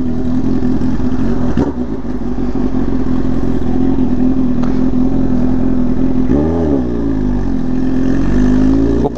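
A Honda Hornet motorcycle rolls over a Hot Wheels toy car, its engine droning loud and steady close by with a brief dip in pitch and a soft clatter partway through.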